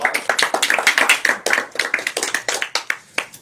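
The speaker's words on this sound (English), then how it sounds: "please give her a big round of applause" Audience in a church applauding a guest book author, a dense run of close, sharp handclaps rising and falling steadily, with no talking over it.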